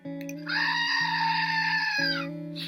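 A goat bleats loudly and close in one long, strained, wavering cry of about two seconds, standing alone with no talking over it.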